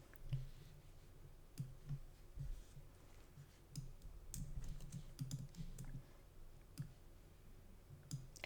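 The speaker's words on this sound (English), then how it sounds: "You're just going to click on the text box and then you can start typing." Quiet keyboard typing and mouse clicks while editing text boxes in schedule card files on a computer: scattered light taps and clicks at an irregular pace, fairly faint and close, with no talking.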